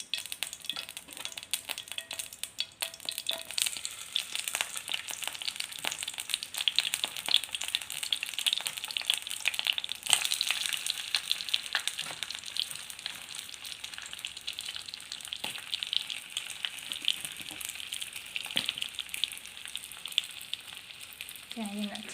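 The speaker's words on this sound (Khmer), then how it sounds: "ឥឡូវនេះខ្ទះក្តៅហើយឥឡូវខ្ញុំយកត្រីមកដាក់ចៀន" Sea fish frying in a hot pan of rice bran oil, a steady crackling sizzle with scattered sharp pops that continues evenly and fairly quietly throughout, with no voices.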